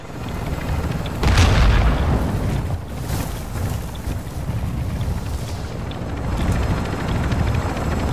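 Helicopter in the video game Call of Duty DMZ on Ashika Island, a steady loud rotor and engine roar filling the whole stretch, with a heavier thump early on and no talk over it.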